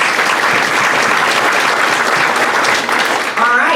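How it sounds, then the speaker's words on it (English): Members at a Rotary club meeting give a loud, sustained round of applause, dense clapping throughout with a brief dip near the end and a voice starting up. "So give him a double round of applause"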